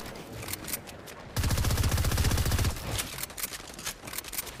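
Rapid bursts of automatic gunfire in the Fortnite video game during a trio cash cup match, a dense fast rattle in the middle flanked by lighter scattered shots, loud and close.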